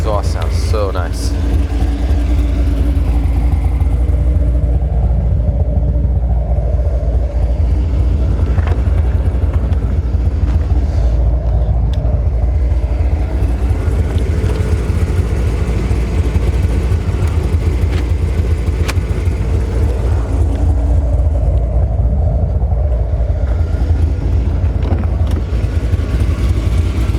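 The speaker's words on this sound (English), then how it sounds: "That exhaust sounds so nice." A 1994 Chevrolet Corvette coupe engine rumbles loudly and steadily throughout, a deep continuous exhaust drone with slight swells, close by.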